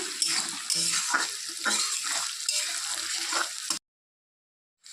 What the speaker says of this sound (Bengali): পেঁয়াজটাকে প্রথমে লাল লাল করে ভেজে নিচ্ছি